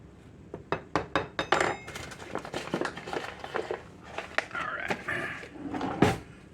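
A metal spoon clinks and rattles as it is pulled from a kitchen drawer, a quick run of bright taps and clatters followed by softer knocks, close by, during home baking of cinnamon rolls in a cast iron pan.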